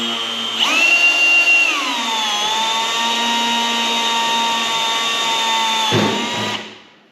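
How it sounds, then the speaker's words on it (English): A power drill with a 1/8 inch bit whirs loudly and steadily for several seconds, its pitch dipping as the bit bites into the scoop mounting for a 1965 Dodge Coronet 500, then winding down. "I'll drill all these out. This is an 1/8 inch bit."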